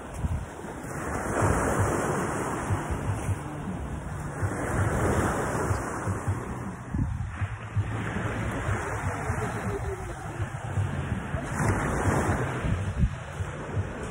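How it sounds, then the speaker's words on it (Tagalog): Surf rolls onto the sand at low tide at Palani Beach Resort in Balud, Masbate, a steady washing roar with swelling waves, heavily buffeted by wind rumbling across the microphone. "Low tide ngayon."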